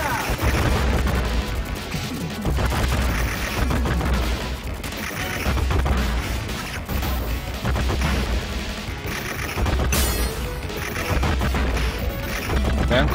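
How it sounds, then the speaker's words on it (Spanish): Loud, dense bursts of explosions and gunfire crash continuously in a chaotic battle in the Xbox 360 game TMNT Arcade 1989, with a voice occasionally heard beneath the din. "Vean cómo el obús de la explosión también me golpea."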